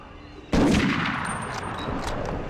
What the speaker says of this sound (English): Oh, the sniper rifle.